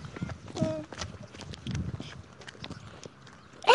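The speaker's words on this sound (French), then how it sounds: "Si, il y a un cheval là" A horse's hooves clip-clop on a hard surface in a short outdoor scene at late afternoon, light irregular steps at moderate distance with faint background noise and a brief louder rustle at the end.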